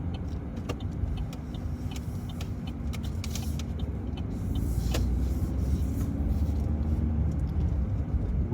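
A car slows and turns right in first gear off a mini roundabout, its engine a low steady hum with faint interior clicks and rattles, building slightly louder toward the end.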